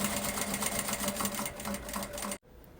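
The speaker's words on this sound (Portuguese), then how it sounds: "a gente fecha essa costurinha bem na borda" A sewing machine stitching a seam along the edge of a fabric pouch, with a fast steady needle rhythm running close and clear for over two seconds before it abruptly stops, leaving quiet room tone.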